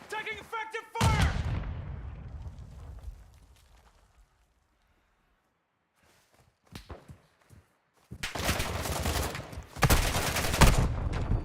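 Warzone 2 gunfire in DMZ mode: a loud volley of shots, then a stretch of near silence, then dense rapid bursts of automatic fire, with brief talk in between.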